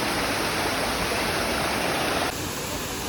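A Caribbean waterfall roars as a dense, unbroken rush of falling water, loud and close, steady throughout with no voices.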